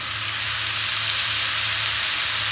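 Yaki udon with cabbage sizzles and fries steadily in a pan while being stirred, a dense, continuous hiss that stays loud and even throughout with no voices.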